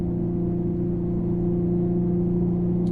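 Infiniti G37 fitted with stock headers and a Motordyne exhaust pulling under load up a hill at around 3,500 RPM, a steady, even low drone with strong tonal hum and no talking.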